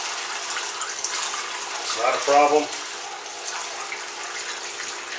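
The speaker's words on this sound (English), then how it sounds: "pour this into our primary fermenter" Homebrew beer wort is poured into a primary fermenter, giving a short burst of gurgling splash roughly a second long against a steady low background hiss, with someone speaking over it.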